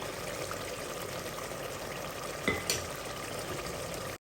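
Mutton stew being roasted further in a pot, with a steady close sizzle throughout and two brief clatters about midway; no talking.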